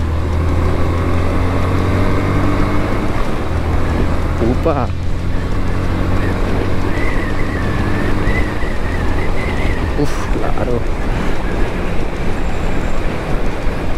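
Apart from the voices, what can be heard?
Yamaha FZ 150 motorcycle accelerating on avenue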